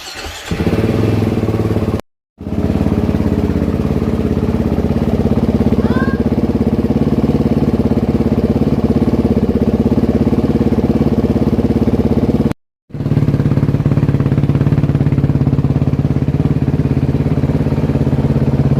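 A Beta 2023 430RR dirt bike engine runs steadily and loudly at close range with a dense mechanical idle drone, cut by two brief silences where it stops before picking up again.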